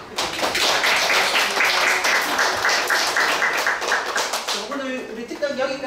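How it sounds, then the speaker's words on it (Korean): Students in a university lecture hall clap together in thanks at the close of a career talk, a dense, steady patter for several seconds before it thins and a voice speaks over the fading claps. "여러분이 감사하다는 마음으로 박수 한번"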